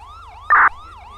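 A wailing police siren from the LSPDFR video game rises and falls in a steady loop, with a brief louder electronic burst in the middle.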